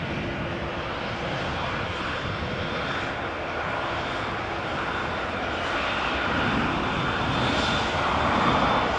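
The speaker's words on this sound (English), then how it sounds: "A319 from EasyJet, which came back from London Gatwick." Jet engines of an EasyJet Airbus A319 back from London Gatwick roll along the runway at Amsterdam Schiphol, a steady broadband roar that swells slightly toward the end, with no voices.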